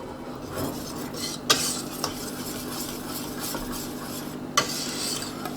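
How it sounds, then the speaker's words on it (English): A spoon works through thick polenta in a pot on low heat, giving soft scraping strokes with a few sharp clinks against the metal rim, close and fairly quiet with no voices. "It's all about stirring. Stirring, stirring"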